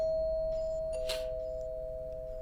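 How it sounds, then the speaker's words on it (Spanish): A doorbell rings once at night in a quiet house, a clear ding-dong tone standing alone over a low steady hum. "de repente tocaron el timbre de su casa."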